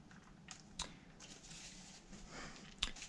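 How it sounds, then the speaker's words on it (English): Faint, soft clicks come from the notched dials on a Turtle Beach VelocityOne race wheel as they are turned: a few muted ticks, close up, in quiet surroundings. "These dials right here that have like the notches in them, they do not feel good, I'm not gonna lie. They're not very clicky,"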